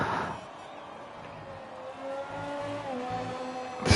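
A McLaren race car on a fast qualifying lap of an Italian circuit in a racing video game, its engine note climbing steadily through the gears as it accelerates, a single car heard close with a brief burst of noise at the end.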